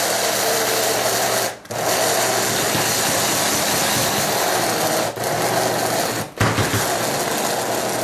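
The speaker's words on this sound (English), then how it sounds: "in my coffee grinder, and all I'm going to do is pulsate this" A coffee grinder grinding oatmeal into flour makes a steady, loud motorized whirring that runs continuously, broken by two or three brief pauses as it is pulsed on and off.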